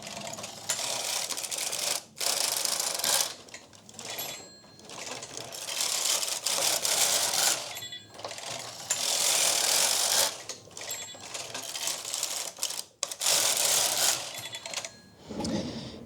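A knitting machine driven by AYAB works tuck stitches for a sweater sleeve, its carriage rasping and clattering in long loud sweeps that stop briefly between passes, close with no talk.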